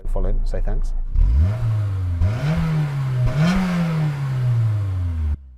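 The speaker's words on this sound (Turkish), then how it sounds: "Honda S2000'imi çalıştıracağım." A Honda S2000 engine is started and revved while stationary, rising and falling through several loud pulls before cutting off; voices briefly overlap at the start.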